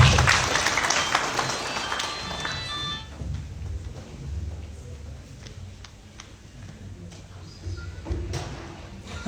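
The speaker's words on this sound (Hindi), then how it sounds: "जोरदार तालियां दीजिए।" A crowd at an Ashok Leyland truck launch event bursts into loud applause for about three seconds, then the clapping fades into a quieter room with scattered knocks and clicks.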